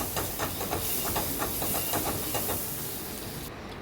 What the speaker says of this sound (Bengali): এখানে অল্প এক টুকরো বাটার দিয়ে দিলাম।